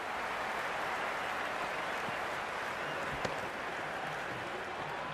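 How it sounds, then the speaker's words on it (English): Broad crowd cheering and applause in the video game Cricket 26 on PS5, greeting a boundary four in a Pakistan vs England T20 match, a steady dense roar that holds level throughout. "The crowd love that one."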